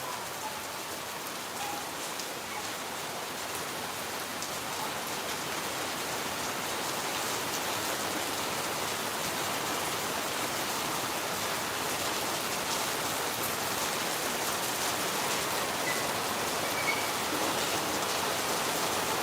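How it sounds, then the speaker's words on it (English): Heavy rain pours down during the rainy season in Phnom Penh, a dense, steady hiss of drops on surfaces that holds unbroken and even throughout, with no voices. "he loves sitting and watching the rain after a hot spell"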